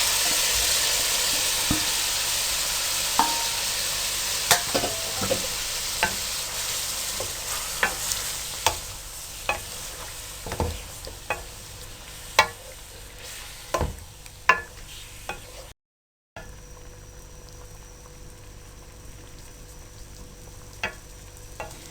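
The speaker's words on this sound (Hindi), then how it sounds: "अब आपने इसको मीडियम फ्लेम पे अच्छी तरह से भून लेना है।" Chicken pieces and chickpeas frying in a pot over a medium flame, a steady close sizzle punctuated by repeated sharp clinks and scrapes of a stirring spoon, with a brief dropout midway and no talking.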